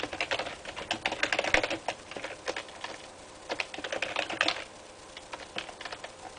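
Someone types on a computer keyboard up close, bursts of rapid clicking keystrokes separated by short pauses, with no talking.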